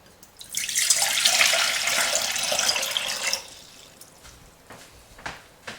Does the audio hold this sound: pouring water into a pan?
yes